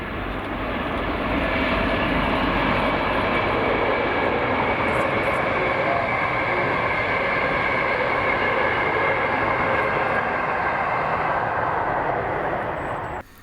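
A charter tour train passes on the line near Langbank, a loud, sustained rolling roar with a steady engine drone that builds and holds close by, then cuts off sharply at the end.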